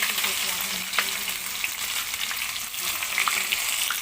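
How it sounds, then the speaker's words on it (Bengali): Chopped onions for a duck meat curry crackle and sizzle loudly in very hot oil, a dense steady frying hiss with small pops, close and continuous throughout, no talking. "এবারে দিয়ে দেব আমি পেঁয়াজগুলো। দেখতেই পাচ্ছেন চড়বড় করে কেমন আওয়াজ হচ্ছে।"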